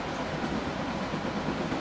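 A steady, continuous rumble of a running train in the OpenBVE train simulator game, with dense rolling noise, unbroken and moderately loud throughout.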